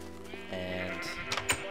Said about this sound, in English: over here we have a sheep farm